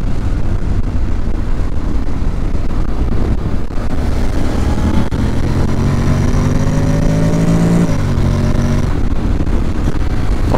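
A Honda X-ADV scooter-style motorcycle accelerates hard around the Interlagos track, its engine note climbing in pitch with a loud, close, continuous drone, a gear change near the end, no voices.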